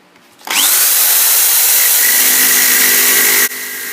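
A power tool, likely a grinder, cuts slits into a steel wrench being made into a dagger, a loud, steady high-pitched whine that starts abruptly, holds for about three seconds with shifting pitch, then cuts off into a lower hum.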